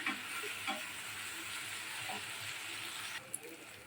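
Onion, ginger and garlic paste frying in hot oil gives a steady broad sizzle with a few soft clinks and stirring scrapes, close and fairly quiet, with no one talking.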